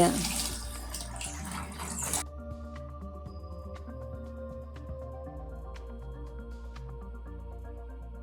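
Water gushes loudly at first while filling a fish pond, then gives way to quieter running and trickling water that continues steadily to the end.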